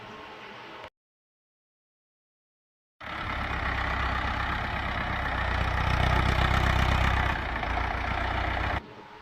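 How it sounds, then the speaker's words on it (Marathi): A tractor engine runs steadily while threshing jowar (sorghum) on a farm, a loud low droning rumble with a constant mechanical roar; it cuts out briefly to silence near the start, then resumes and holds for several seconds. "या ट्रॅक्टरनं आम्ही काढून घेतली आमच्या शेतातली ज्वारी"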